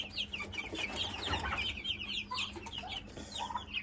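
Broiler roosters in a pen cluck and chatter in a busy overlapping flock, with soft calls scattered throughout at moderate volume and no talking.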